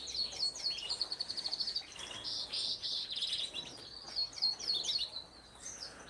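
Green Gloster canaries chirp and trill in rapid, bright bursts that repeat close by throughout, with brief pauses between phrases.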